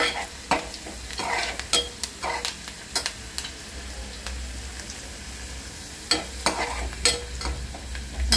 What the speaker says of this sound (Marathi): कांदा भाजत आहे